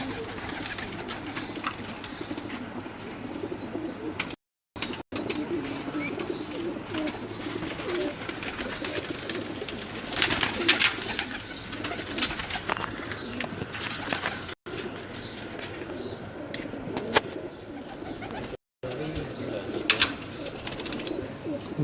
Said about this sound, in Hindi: ये जी बटेरा कबूतर है।